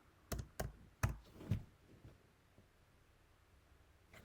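Several distinct keystrokes sound on a computer keyboard as a command word is typed while setting up an iPhone backup to an external hard drive, followed by a quiet pause and one last faint tap.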